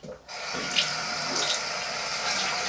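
Tap water runs steadily into a bathroom sink as a face is wetted before shaving with a lather primer, starting after a brief quiet moment and continuing as a close, continuous splashing stream.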